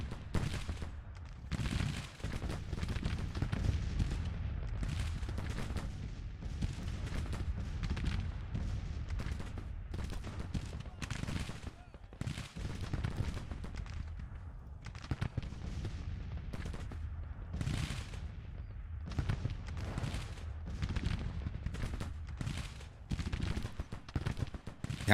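Civil War artillery and rifle fire in the Grand Tactician strategy game, including canister rounds and Mississippi rifles: continuous overlapping musketry crackles with heavy booming cannon shots, dense and steady throughout.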